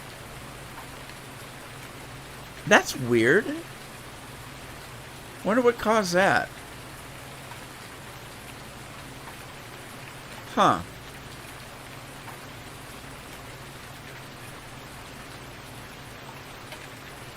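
Steady rain falling in the Farming Simulator 19 video game on an Alaska map, a constant hiss under a voice speaking in a few brief bursts.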